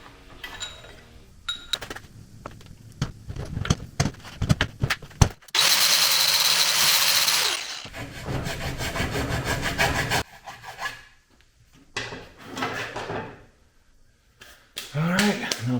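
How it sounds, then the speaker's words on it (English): Power tool cutting a relief into the bottom of an aluminum CR500 motorcycle frame: loud, harsh grinding bursts of a few seconds each, close by, separated by short pauses and handling knocks. "we'll pull this motor back out now to cut that relief in the bottom of the frame"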